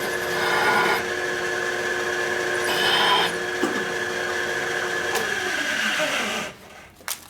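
Power drill boring into a clutch part for a 1972 Harley-Davidson Sportster Ironhead, a steady whirring grind with surges in load before it winds down and stops.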